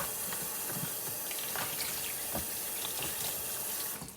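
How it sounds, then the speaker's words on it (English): Tap water pours in a steady broadband rush into a pot of spiced grains for Liberian fried potato greens, continuous and close throughout before tapering at the end. "Pour some water on it."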